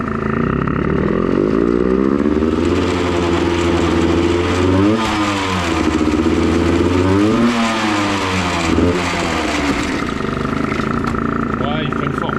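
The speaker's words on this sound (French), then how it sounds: "vas-y accélère Gwen" A Honda CRM 125 motorcycle being restarted after ten years revs repeatedly, its loud, close engine rising and falling in pitch over a steady idle, with people talking underneath.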